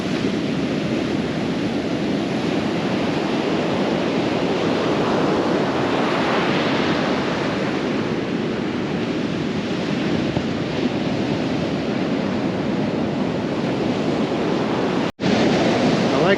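Surf breaking on a natural, undeveloped Canaveral National Seashore beach, a steady broadband roar of small breakers with swells rising and easing, plus light wind buffeting the microphone and a brief dropout near the end.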